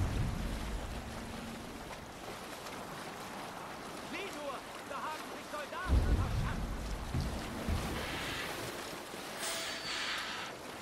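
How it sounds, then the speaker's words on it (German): A ship sails through fog in Assassin's Creed Valhalla, with a steady wash of wind and water and soft, muffled bumps and creaks throughout. "wir segeln doch nur hier durch den Nebel"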